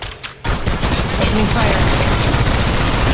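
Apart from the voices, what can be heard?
gunfire in the video game Apex Legends Mobile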